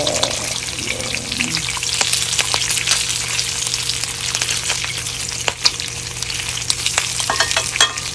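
Fatty meat fries in a hot pan for pares, with a continuous loud sizzle and scattered popping splatters, plus some stirring clatter near the start.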